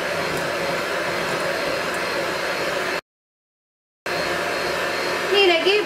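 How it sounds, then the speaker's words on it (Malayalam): An electric hand beater whirs steadily through plum cake batter for a pressure-cooker Christmas fruit cake, a continuous close motor drone that cuts out briefly and then resumes. "ഇത് ബീറ്റ് ചെയ്തെടുക്കുക."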